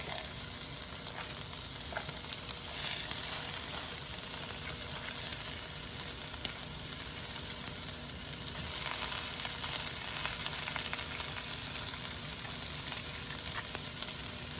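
Cream cheese melting into cheesesteak pasta sizzles steadily in a pan, a constant broadband frying hiss with occasional soft pops, no voices.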